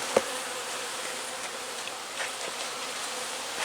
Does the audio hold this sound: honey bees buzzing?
yes